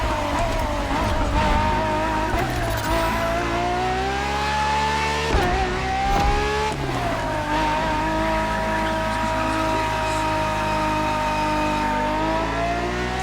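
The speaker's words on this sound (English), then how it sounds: "for this second lap, you'll be driving the FXX K." Ferrari FXX K supercar in The Crew Motorfest, its engine screaming loud and close with rising and falling revs through gear changes, a brief dip at a shift midway, then climbing again.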